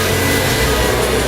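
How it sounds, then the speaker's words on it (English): A hair dryer blows with a loud, steady whooshing whir that holds constant throughout, with no talking. "Turn on our blow dryer."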